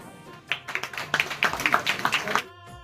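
Scattered clapping from an audience at a traditional-style retirement ceremony, a short burst of irregular claps that builds and fades with voices talking over it.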